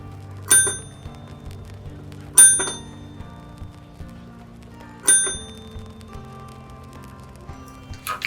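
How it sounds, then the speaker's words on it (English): Three clear rings of a small bell during a calm tarot reading, each bright strike spaced about two seconds apart and left to decay softly, with a faint low hum beneath and no talking. "Now before we close this reading, we do 3 more rings on the bell."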